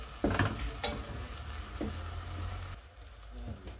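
Food sizzles and fries in local beldi olive oil, a steady crackling hiss close by with a few scraping stir strokes. It belongs to a stovetop step in making meat-stuffed bread.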